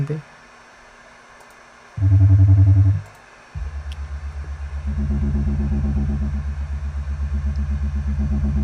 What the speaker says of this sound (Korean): 이건 자동차 배기음 같은데.